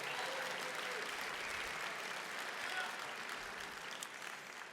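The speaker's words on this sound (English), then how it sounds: "Please give him a nice round of applause." Sustained, dense applause from a large audience at an annual gala in Chicago, steady and full throughout with no individual claps standing out.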